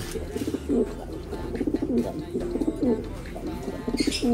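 Pigeons in a loft coo steadily in repeated low, rolling phrases, several birds overlapping close by, with light rustling and a brief higher chirp near the end.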